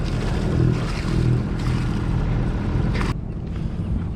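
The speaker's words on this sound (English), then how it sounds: "Now we check to see if we've got water pumping over the side, which I can already hear." Boat engine cooling water pumping and splashing over the side while anchored off Island White, Long Beach, a steady close wash of water over a low engine hum that drops suddenly near the end.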